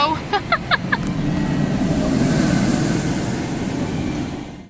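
Roller coaster at Energylandia amusement park roaring past in a broad, sustained rumble that swells and holds for several seconds before cutting off, with brief voices at the start.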